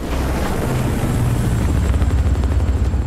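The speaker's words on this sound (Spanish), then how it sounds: "Pasa el helicóptero" Helicopter from the Gears 5 campaign passing by, a steady low rotor rumble with broad roaring noise that holds loud throughout, no speech over it.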